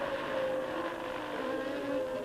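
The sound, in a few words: Formula 1 car Renault V10 engine revving at high rpm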